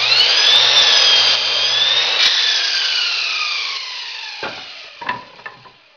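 Power saw cutting through wood for roof rafters, a loud whining cut that lasts a couple of seconds, then the blade winds down with a few knocks at the end.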